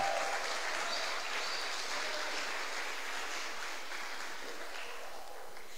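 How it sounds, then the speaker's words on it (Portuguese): Steady applause from a church congregation during a celebration service, sustained clapping at even loudness for several seconds with no talking. "Vamos dar uma salva de palmas para Jesus, irmão?"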